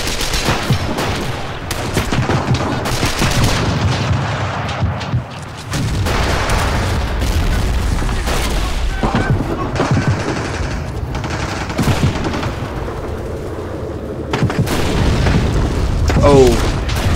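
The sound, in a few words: gunfire and explosions in Men of War video game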